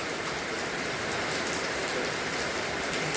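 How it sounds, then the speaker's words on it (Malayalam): Heavy rain pours down in a steady, dense hiss of drops on surfaces, unbroken and loud throughout, with no voices. "ചെറിയൊരു ഗ്യാപ്പ് മാത്രം വിട്ട് ഇങ്ങനെ മഴ പെയ്തുകൊണ്ടിരിക്കുക"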